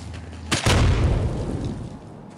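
A grenade goes off in the zombie survival game Dawn of Zombies: a sharp close blast followed by a heavy rumbling boom that slowly fades over a couple of seconds.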